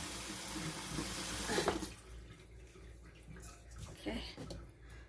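Kitchen tap running steadily into a sink during bread dough making, a loud broadband rush that cuts off abruptly after about two seconds, followed by quieter sloshing and faint background sounds.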